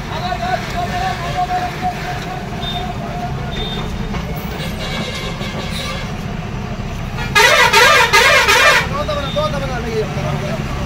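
Vehicle horns in a jam of lorries near a bridge crossing, with a loud, rapidly warbling musical horn blaring for over a second over steady road rumble and distant honks, while people talk nearby.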